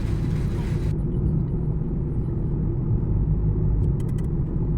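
A car drives through road traffic near upcoming diversions on a road trip from Kanpur to Ujjain. It makes a loud, steady low rumble of engine and tyre noise with no let-up.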